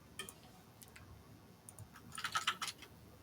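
Password being typed on a computer keyboard: quiet scattered key clicks at first, then a denser burst of quick taps near the end, close and alone with no talk.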